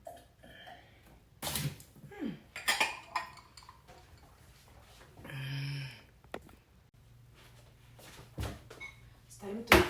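Dishes and cutlery being washed in a home kitchen sink: scattered clinks and clatters of plates and silverware, a splash of running water and a few handling knocks, close and intermittent.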